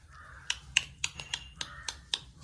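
A crow in a backyard garden gives about seven short, harsh caws at a fairly steady pace, moderately close, with quiet low background noise between the calls.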